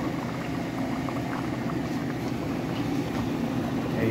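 Mung beans (balatong) boiling in a pot, a steady close bubbling and rolling simmer that continues evenly throughout with no voices.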